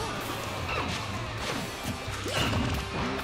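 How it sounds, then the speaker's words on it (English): Fighters trade up smash attacks in Super Smash Bros. 4, producing several sharp crashing hits and swooshes at a quick, uneven pace over a busy background of game sound. "these players just answering each other with up smashes right here"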